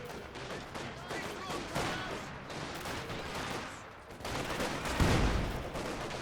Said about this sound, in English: PTRS firing away from behind the carcass